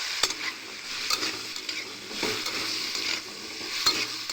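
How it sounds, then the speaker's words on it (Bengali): Cut potato and papaya frying together in a pan for a vegetarian papaya curry, a close continuous sizzle with scraping stirs and a few sharp utensil clicks against the metal. "এই যে আলু আর পেঁপে যে কেটে রেখেছিলাম সবগুলো একসাথেই দিয়ে দেবো, দিয়ে ভালো করে আমরা নেড়ে নেবো।"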